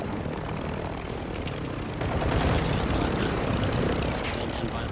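A helicopter in the video game DMZ on the Al Mazrah map roars with a loud, continuous rotor and engine wash that swells slightly partway through, with no talk over it.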